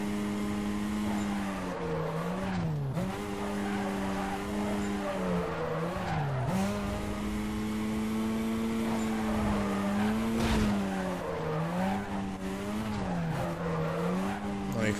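Drifting car in Need for Speed Carbon, a steady engine drone with tires squealing in repeated wavering swoops throughout, loud and continuous with no talk over it.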